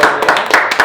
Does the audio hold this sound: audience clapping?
yes